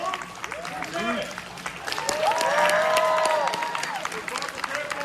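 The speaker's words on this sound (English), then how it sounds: "let's give a round of applause for Jeffrey Combs and Abbott." A fan convention crowd at a horror film Q&A applauds with dense, sustained clapping, while whoops and cheering voices rise over it and swell toward the middle.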